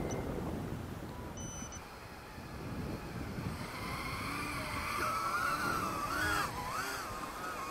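An Eachine Aurora 100 brushless micro FPV quadcopter flies nearby with a worn propeller. Its thin, high-pitched motor whine rises and falls as the throttle changes, over a steady whooshing background.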